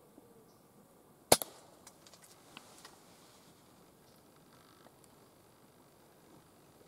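A single sharp, close air rifle shot cracks out during squirrel pest control, followed by a few faint ticks and rustles against a quiet outdoor background.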